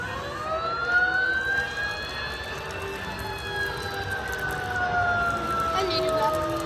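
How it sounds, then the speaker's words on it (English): A fire engine siren wails loudly and steadily, rising and falling in long sweeps, with traffic and street noise around it. "I think that fire engine sprays water."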